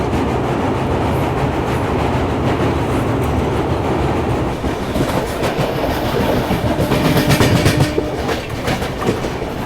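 The Maharashtra Sampark Kranti Express rolls across the Narmada river bridge near Bharuch, a loud, continuous rumble with rapid clickety-clack of wheels over rail joints and metallic rattling that swells toward the end.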